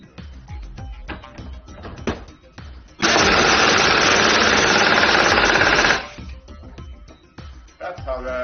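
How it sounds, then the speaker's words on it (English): A pneumatic pulse tool runs on shop air in one loud, steady burst of about three seconds, a dense buzzing rattle that stops abruptly, with quieter handling clatter before and after. "That's how the pulse tool works."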